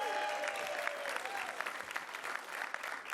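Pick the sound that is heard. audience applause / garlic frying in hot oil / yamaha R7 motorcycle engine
audience applause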